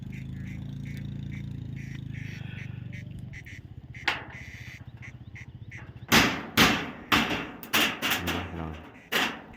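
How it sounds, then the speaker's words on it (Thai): Hammer blows on corrugated zinc roofing sheets during construction of a small village hut, about seven sharp metallic strikes in the second half, loud and close, following a low droning stretch. "ตอกสังกะสีนี่รู้สึกว่าจะยากเลย"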